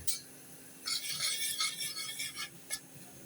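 Semolina frying and being stirred in oil in a pan for upma, heard as close, dry scraping and rasping strokes in short bursts, with no one speaking.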